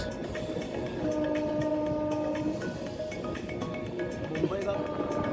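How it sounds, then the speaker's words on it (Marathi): A Humsafar Express, train 22498, runs through the foggy Khandala ghat with a steady, loud rumble of wheels and carriages throughout, a faint horn-like tone threaded under it. "धुक्यात हरवलेले खंडाळा घाट आणि त्यातून मार्ग काढणारी आपली हमसफर एक्सप्रेस"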